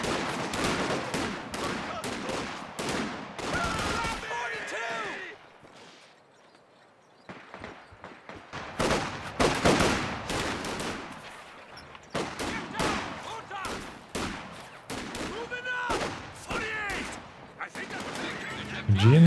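Gunfire from US infantry in a 2v2 Company of Heroes 2 match, repeated bursts of rifle and machine-gun shots in clusters, nearby and sharp, broken by a short lull, with a commentator talking throughout.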